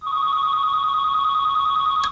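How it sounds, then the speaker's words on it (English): A telephone rings loud and close with a steady electronic two-tone trill that holds unbroken for about two seconds and cuts off abruptly. "Another phone."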